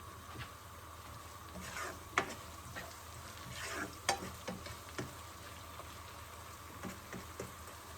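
Onion with salt fries in a pan with a soft continuous sizzle and bubbling, with occasional faint stirring clicks and a steady low background hum, fairly quiet and without voices.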